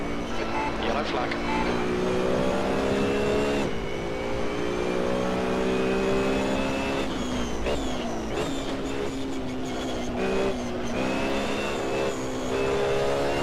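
Race car engines in the Assetto Corsa racing game during an online multiplayer race roar continuously and loudly, climbing in pitch and dropping sharply at gear shifts, with cars running close together throughout.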